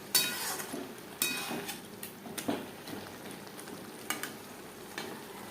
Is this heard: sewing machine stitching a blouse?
no